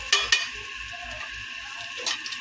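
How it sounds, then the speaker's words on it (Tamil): A pot of curry being stirred by hand, with two sharp clinks of a spoon against the pot near the start and another near the end over a low, steady background rumble; no one speaks. "இப்போ இதை நல்லா கலக்கலாம்."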